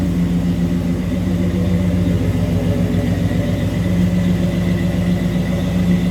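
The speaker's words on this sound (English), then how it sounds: "Great sounding exhaust, nice rumble." A 1969 Chevrolet El Camino's exhaust rumbles steadily close by, a deep, throaty idle with an even pulsing low tone held throughout, no talking over it.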